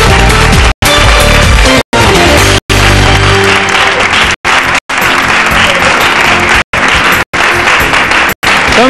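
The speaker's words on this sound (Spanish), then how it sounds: "Un aplauso para José." Studio audience on a Spanish TV talk show breaks into loud, sustained applause, a dense continuous wash of clapping close up, interrupted by several abrupt brief dropouts.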